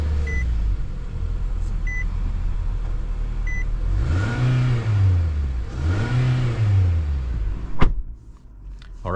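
A 2022 Nissan Altima S base trim accelerates on a drive, engine revving up twice in rising sweeps heard from inside the car, with a faint beep and a sharp knock near the end.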